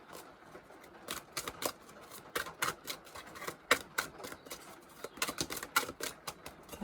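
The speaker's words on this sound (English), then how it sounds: "I'm going to pull a few cards out before I start reading." Tarot cards being shuffled and pulled from a deck, a quiet close series of crisp snaps and flicks in irregular bursts, with no talking.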